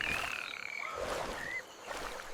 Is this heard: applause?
no